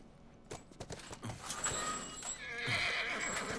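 Horse in The Last of Us video game whinnying and snorting over clip-clopping hooves, several hoof taps followed by a rising neigh, close and fairly soft with no talk.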